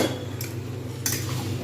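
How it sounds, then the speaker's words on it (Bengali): Boiled potatoes tipped into a pan of green peas and spices, a couple of quick metallic clinks and scrapes of a utensil against the pan over a low steady hum. "এইবার আমি এর মধ্যে বয়েল করা আলুগুলো আমি কিন্তু সবকটা দিয়ে দেবো।"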